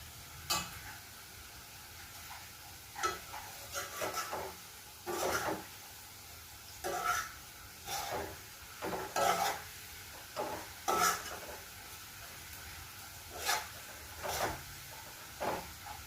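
Spatula stirring and scraping in a pan as chowmein noodles are tossed with boiled potatoes for ghorowa chowmin, with soft sizzling between sparse, irregular clatters. Fairly quiet and close, with no talking.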